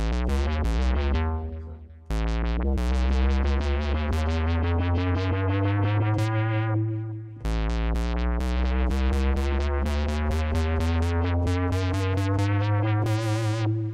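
An instrument plays quick runs of closely spaced rising notes in quarter-tone steps, starting over twice for three climbing passes with no talking.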